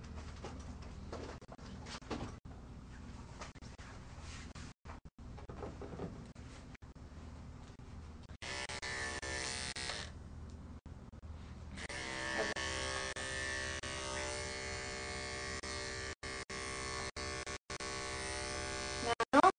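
Electric hair clippers buzz intermittently during dog grooming, starting and stopping several times over about twenty seconds, with faint room sounds between runs and a steadier stretch of buzzing toward the end.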